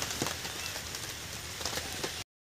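Heavy rain falling in a rural village area near a wildlife sanctuary, a steady, dense hiss of rain on surfaces heard up close, continuous until it cuts off abruptly.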